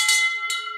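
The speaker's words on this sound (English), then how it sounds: "let's give him a smash on the bell" A bell is struck twice in celebration, each hit giving a bright, sustained metallic ring that decays gradually.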